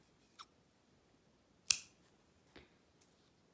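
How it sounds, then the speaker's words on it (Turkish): Scissors snip through yarn during mosaic crochet work: one sharp, close cut stands out, with a few faint clicks before and after in an otherwise quiet room. "Bir zincir çekip ipi kesiyorum."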